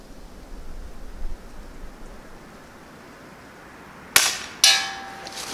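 Daisy Powerline 35 air rifle fired at a metal target 50 yards away: after a quiet outdoor stretch, a sharp crack is followed half a second later by a second loud impact that rings briefly.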